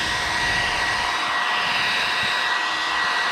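A hair dryer roars steadily at full blast, a dense, even whoosh of air with a faint whine running through it.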